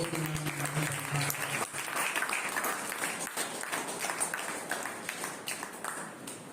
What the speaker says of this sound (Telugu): అందరం ఒకసారి గట్టిగా చప్పట్లు కొట్టి